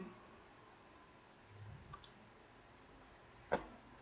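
A computer mouse clicks once on a Browse button in Windows 10 account settings: a single faint, sharp click near the end over a quiet hiss, with a softer tap shortly before.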